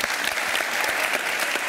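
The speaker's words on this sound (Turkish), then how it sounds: "alkış. Bravo." An audience bursts into steady, dense applause, a continuous wash of many hands clapping at an even level for the full stretch, with little else audible.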